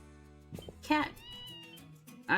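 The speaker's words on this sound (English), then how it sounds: "Cat." A cat meows in the video game Ys Seven, with a clear mew over a steady in-game music backdrop, plus a second meow at the very end.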